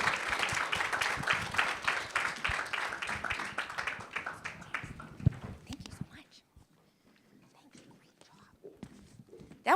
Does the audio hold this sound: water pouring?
no